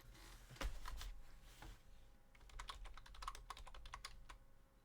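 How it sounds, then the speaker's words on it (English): Quick, uneven clicks from typing on a computer keyboard during a livestream. The keystrokes come in bursts, close but faint, over a low background hum. "Keyboard."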